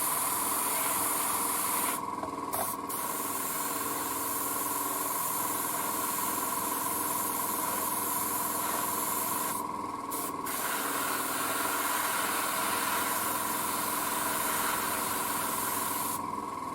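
An airbrush sprays a fine paint mist onto a 1:35 Takom Type-69-II tank model, a steady close hiss that runs continuously, cut by brief pauses as the trigger is released.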